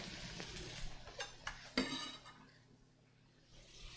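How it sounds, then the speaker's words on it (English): Onion and garlic tossed into a pan for a chicken sweet potato stir fry, with a few clattering metallic knocks and one sharp clank of utensil against pan, followed by a quieter sizzling stretch. "we're gonna go ahead and throw our onion in here now and our garlic"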